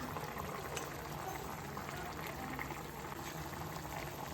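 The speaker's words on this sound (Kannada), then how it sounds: "ಬಾಯ್ಲ್ ಆಗಲಿ ಸ್ವಲ್ಪ" Guntur chicken curry simmers in a pot, giving a faint, continuous soft bubbling with no talk over it.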